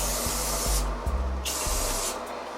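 Several short, hissing sprays of cleaner from a pump bottle onto a Pitbull Gold Pro skull shaver in quick succession, close up, with faint rubbing and clicks between bursts.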